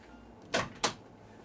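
A studio door shuts with two quick, sharp knocks in close succession, a brief latch-and-thud pair in a quiet room.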